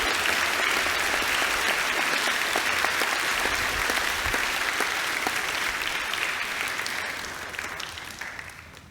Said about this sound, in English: I'll please get a round of applause for the 2021 First 11 cricket team.